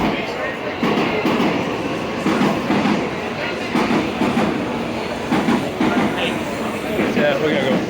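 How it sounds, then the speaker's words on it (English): A Japanese bullet train travelling fast between Odawara and Kyoto gives a steady loud rushing rumble with rhythmic clatter, heard from inside, while people talk over it. "The bullet train is going pretty fast. This is the bullet train."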